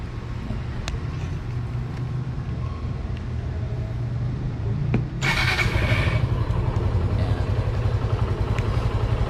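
A Suzuki Gixxer SF 155 motorcycle engine rumbles steadily up close, then surges louder about halfway through with a sharp rise in roar that holds to the end, with no voices.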